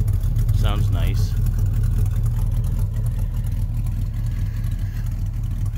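A 1971 Dodge Charger R/T with a 440 V8 and TTI aftermarket exhaust idles close by with a deep, steady rumble and throaty low exhaust note, briefly overlaid by a short chirping sound early on.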